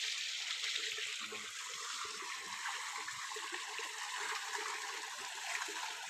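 Water flows steadily at a gold extraction site where soil is washed, a continuous rushing and gurgling stream that stays even and moderately loud throughout with no talk.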